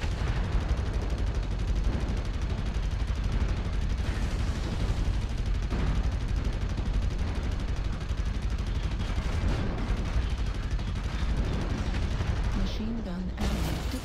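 Rapid machine gun bursts from a mech in MechWarrior Online roll on steadily under a dense game mix of explosions and rumble, with a synthetic voice announcing status in the background.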